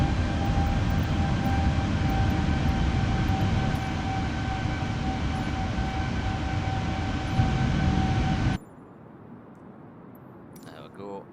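Steady airliner engine roar inside the cabin in Microsoft Flight Simulator 2020, a dense continuous drone with faint tonal whines that cuts off abruptly near the end, leaving quiet room noise.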